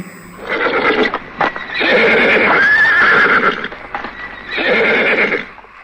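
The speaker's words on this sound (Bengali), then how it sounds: "ঘোড়াটা হঠাৎ আবার চঞ্চল হয়ে পা তুলে চিৎকার করল" A restless horse rears and neighs loudly, close by, with repeated shrill whinnies and a few hoof clops between them, no talk.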